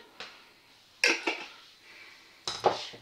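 Baby potato salad being mixed with parsley and other herbs in a bowl, unsalted: a few distinct clinks and scrapes of a utensil against the dish, close and fairly quiet, with short pauses between them.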